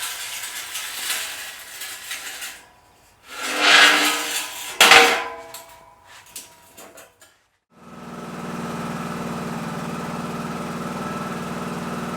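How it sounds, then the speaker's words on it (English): A riding lawnmower engine starts after some clanking and handling noises from a shed, then settles into a steady mid-pitched idle that runs on unbroken, fairly close and loud. "so then I can back the riding lawnmower out from the shed"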